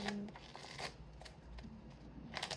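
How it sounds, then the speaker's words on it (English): Index cards are shuffled in a few quick riffling bursts, soft papery flutters separated by short pauses, close by and fairly quiet. "I'm going to shuffle it 3 times"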